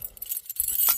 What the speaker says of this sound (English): I wonder what all these other keys are.